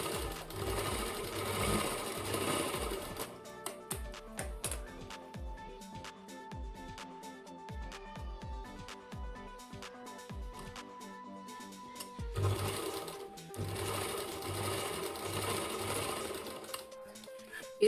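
A sewing machine stitching a four-tuck blouse, loud and close, running steadily at first, then breaking into short start-stop bursts of stitching before running continuously again toward the end.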